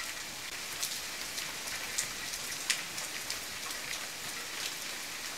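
Rain falling in the survival video game The Forest makes a steady hiss of drops with occasional sharper taps landing on surfaces, constant and moderately quiet, with no talking.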